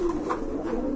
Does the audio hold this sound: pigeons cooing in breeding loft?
yes